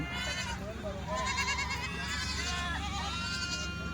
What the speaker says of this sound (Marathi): मेंढीचे कोकरे पण आणलेले असतात कोणी कोणी घेणारे हे राजस्थानी मेंढी